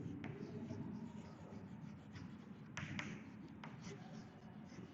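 Chalk or marker scratching across a board during an accountancy lesson, a steady dry scraping with a few sharp taps and strokes over a constant room hiss, faint voice now and then.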